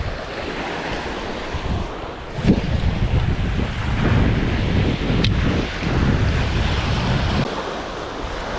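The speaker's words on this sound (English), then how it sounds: "It's a little windy" Wind gusts across a beach by the surf, mixed with a constant roar of breaking waves and buffeting on the microphone, with a couple of louder bumps and no talking.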